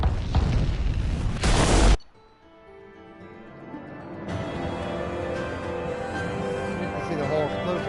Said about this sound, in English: I want to see the whole thing explode.